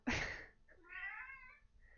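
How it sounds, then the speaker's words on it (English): A house cat lets out one drawn-out, wavering meow up close, just after a short, breathy burst. "now I have a loud kitty here"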